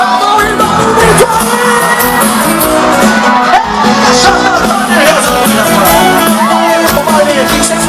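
A festival crowd at a São João celebration in Santo Antônio de Jesus, Bahia, yells and cheers loudly and continuously over amplified music.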